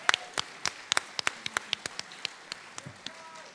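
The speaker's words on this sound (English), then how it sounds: "Give her a big round of applause" An audience at a live local event gives a round of applause, with sharp separate claps in a loose, sparse rhythm, nearby and fairly clear, steady from start to finish.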